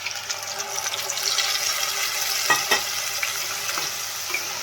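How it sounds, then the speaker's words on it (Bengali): Steady sizzling of capsicum and ground spice paste frying in a hot pan for a paneer dish, with a couple of sharp scraping stirs partway through; no talking. "ক্যাপসিকামগুলো মোটামুটি ভাজা ভাজা হয়ে গেছে এবার আমরা ওই বাটা মশলাটা এর সাথে অ্যাড করে দিলাম"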